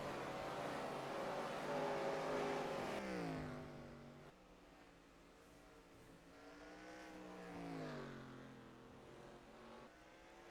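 Race car engines droning and revving on the oval at Berlin Raceway during an NRX Meijer Cup race, a continuous fairly distant roar with pitch rising and falling as cars pass, no clear talk over it.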